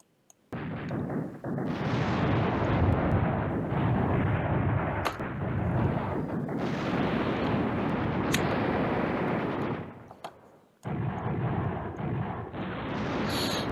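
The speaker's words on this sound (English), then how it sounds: "Now what he's doing is he's using artillery and he's creeping up" Artillery fire in the wargame Command Ops 2, a dense continuous rumble of booms and blasts with sharp cracks, running for several seconds, briefly dropping out, then resuming loud.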